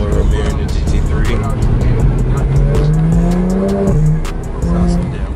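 A GT3 sports car engine revs loudly and close, pitch climbing in steady pulls with quick gear shifts around the midpoint, running continuously beneath people talking.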